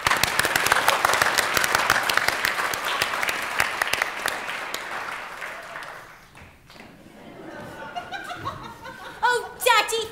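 Audience at a live stage performance of Peter and the Starcatcher bursts into loud, crisp applause that gradually fades, followed by chuckles and laughter while actors speak over the quieter room.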